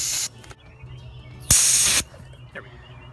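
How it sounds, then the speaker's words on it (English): Refrigerant sprays out of a pushed Schrader valve on a car air-conditioning line, two sharp, loud hissing bursts, one at the start and a longer half-second blast midway, close and clear with quiet gaps between. "I'm gonna push this Schrader valve and push it until refrigerant comes out just a little bit."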